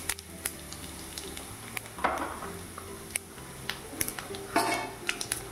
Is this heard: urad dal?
yes